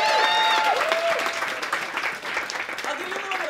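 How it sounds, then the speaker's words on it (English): An audience at a live event gives a sustained round of applause, with dense clapping filling the clip and some cheering mixed in. "Give yourselves a round of applause."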